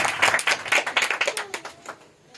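Sparse, scattered clapping from a small audience at an Urdu church sermon, several quick overlapping claps that thin out and die away within a couple of seconds.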